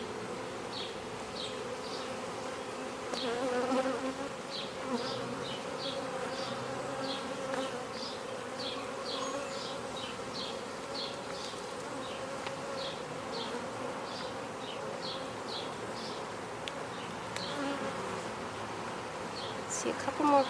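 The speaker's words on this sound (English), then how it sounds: "Now the bees are rightfully, understandably agitated." A dense swarm of agitated honey bees buzzes continuously nearby while capped honey frames are pulled from a hive, the drone rising and falling with individual bees zipping past.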